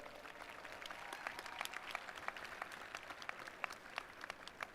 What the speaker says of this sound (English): You can clap it up for yourselves.